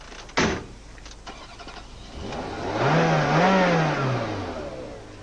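A Ferrari Mondial's 3.5-litre 300-horsepower V8 engine turns over, catches and revs up into a rising, falling roar before easing off, heard close with no talk.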